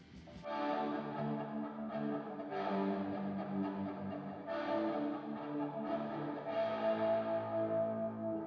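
Soft, swelling guitar chords fade in without a picked attack, using a slow-attack effect, washed in lush plate reverb at 100% mix with no dry signal, and layered, drifting sustain.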